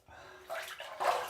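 Running water from a tap splashes steadily for rinsing after a cold-water shave, loud and close with a rising gush near the end and no talk.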